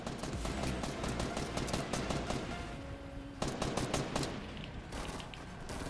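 Dense automatic gunfire in Fortnite Battle Royale, loud rapid bursts of shots that keep rattling almost without a break, with brief pauses between volleys.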